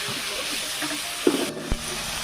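Radish greens fry with garlic in a pan, a steady hiss with a few brief stirring clatters and scrapes, close and fairly loud.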